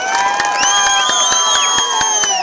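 At a Congress public meeting in Shivamogga, a large crowd cheers and whistles while sharp hand claps punch through, the loud continuous din filling the whole moment.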